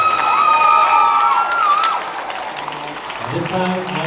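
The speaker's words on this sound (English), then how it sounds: "give a big round of applause for you and his beautiful mother" Applause and cheering from wedding reception guests honoring the groom and his mother, a continuous crowd wash with a speaking voice over it that fades as the clapping tapers off.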